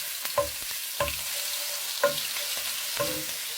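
Garlic sizzles steadily in hot oil for a potato fry, a continuous crackling hiss broken by a few sharp stirring scrapes of the spoon against the pan at roughly one-second intervals, no voices.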